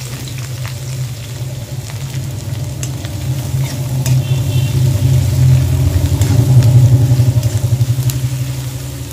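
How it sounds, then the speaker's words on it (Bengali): Chopped onions added to hot oil with cumin seeds in a wok hiss and sizzle loudly and continuously, the frying swelling steadily with occasional scraping stirs. "এরপরে দেবো পেঁয়াজ কুচি"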